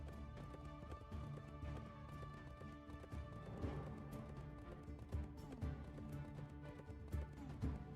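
Horse galloping in the Wild West Dynasty video game, a continuous rapid clip-clop of hooves over a faint background of music, no talking.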